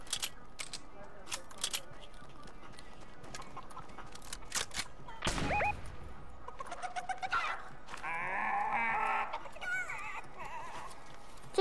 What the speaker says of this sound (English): Stupid chicken.